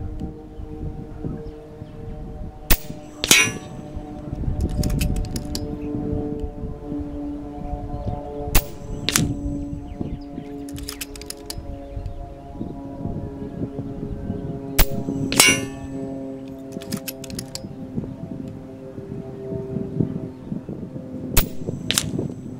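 An air rifle fires H&N 21-grain .217 slugs at a 100 m target: sharp shots each followed by a metallic clang, repeating at irregular intervals over a low outdoor background, with no voices.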